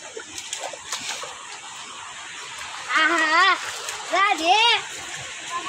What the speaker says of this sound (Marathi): लेकरं बघा कशी पाण्यात नाचत येत